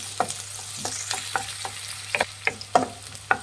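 Garlic and onion fry in a pan, with a soft continuous sizzle broken by a series of distinct scraping stir strokes, close and fairly quiet, no voices.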